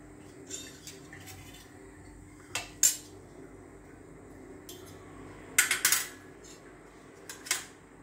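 A metal kadhai clinks and scrapes a few times as it is handled on the stove while oil heats, sharp isolated clanks spaced across quiet moments.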